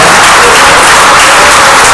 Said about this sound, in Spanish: Un aplauso para Dios en esta mañana